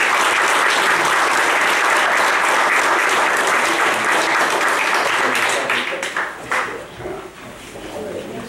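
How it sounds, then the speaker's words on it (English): A county fiscal court audience gives a round of applause, loud dense clapping that holds steady for several seconds, then thins out and fades with scattered claps and murmuring at the end. "let's give Billy Sue another round of applause"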